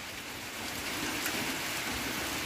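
Heavy rain pours steadily over a garden, a dense continuous hiss of drops on surfaces, loud and unbroken with no voices.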